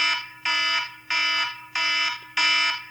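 A loud electronic alarm clock beeps in five even bursts, each about a third of a second long and bright and harmonic, repeating steadily with no voices.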